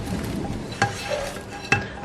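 A spoon stirring dal with oil in a pot on the stove, with a soft bubbling sizzle underneath and two sharp metallic clinks against the pan, close and fairly quiet.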